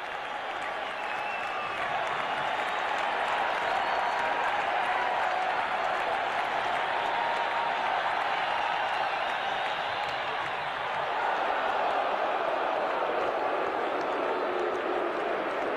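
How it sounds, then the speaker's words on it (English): Loud, steady roar of a large baseball crowd at a 1984 Minnesota Twins versus Kansas City Royals game, a dense wash of cheering and applause that swells slightly near the end with no break. "Now this crowd is roaring."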